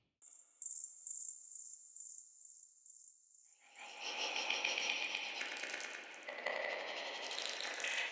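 Sharp rhythmic chirping pulses at first, then a dense, continuous buzzing trill of crickets swells in and keeps going.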